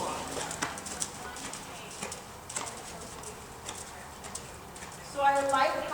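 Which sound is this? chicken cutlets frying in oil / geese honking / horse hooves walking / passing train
horse hooves walking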